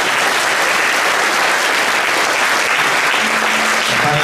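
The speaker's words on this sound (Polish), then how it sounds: "I jeszcze raz duże brawa." Loud, sustained applause from a conference audience at a regional parenthood day event, a dense continuous roar of many hands clapping with no speech.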